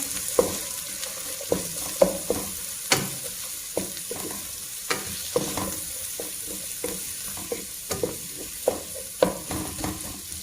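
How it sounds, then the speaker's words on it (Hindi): Onions sizzle and crackle in hot oil in a pan, with a steady hiss and the regular scrape of stirring. "प्याज को हल्का सा पहले सौते करें।"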